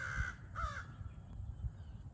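Crows cawing from a tree, a few harsh caws over a low rumbling background, moderately distant and faint.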